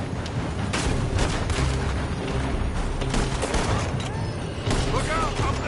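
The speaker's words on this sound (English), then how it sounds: "They're shooting from that building!" Gunfire from a building in Red Dead Redemption 2, a dense rattle of shots and booms filling the scene continuously, with voices shouting over it.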